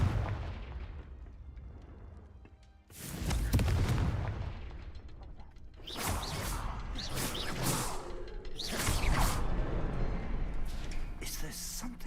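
Repeated Confringo fire-spell explosions in a Harry Potter video game, several loud booming bursts with whooshing blasts arriving in irregular clusters, with a voice talking over the action between blasts.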